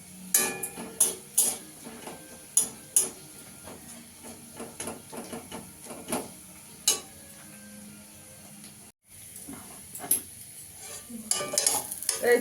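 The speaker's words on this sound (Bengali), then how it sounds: "এই তরকাটা আমি এর মধ্যে দিয়ে দেবো।" Dal sizzles gently as the tadka goes in, with repeated sharp scrapes and taps of a spoon stirring against the pot, and a brief pause near the end before the stirring resumes.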